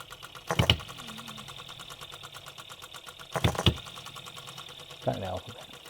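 OKMO B02 hit and miss model engine running constantly, a rapid steady faint chugging beat with a couple of sharper mechanical clunks, under someone talking.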